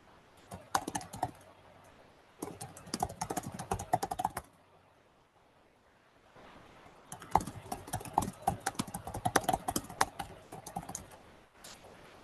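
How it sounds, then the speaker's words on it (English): Someone types quickly on a computer keyboard during an online webinar, with close, crisp key clatter in two long bursts separated by brief quiet pauses. "I particularly like the sound of the keyboard."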